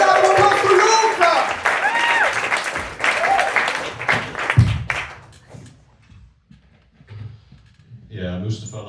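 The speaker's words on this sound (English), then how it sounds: "Please give a big round of applause to Luca." Comedy club audience applauding as the third comedian of the night is introduced, a dense burst of clapping and cheering that fades out midway, followed by near quiet and a voice.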